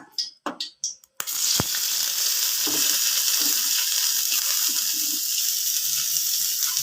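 Shallots hit hot oil in a pan and sizzle loudly and steadily after a few short clatters of dropping in, the frying close and continuous with light stirring scrapes and no speech.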